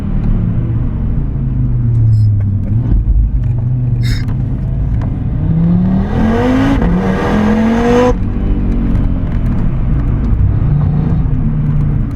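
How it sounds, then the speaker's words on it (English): Audi RS3 with its 294 kW five-cylinder engine revving hard from inside the car: a loud, continuous engine roar that climbs in pitch through rising revs, drops at a missed gear change and settles back into a steady drone. "Trevor, I'm sorry for high revving your car."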